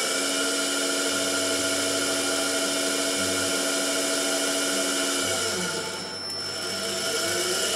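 A DC motor driven by a Westamp 3-axis DC motor drive, model 33001-9, running clockwise with a steady electric whine and hum that holds throughout, dipping briefly near the end, close and with no talk.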